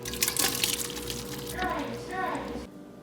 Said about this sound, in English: So in the stock pot, first goes a container of broth.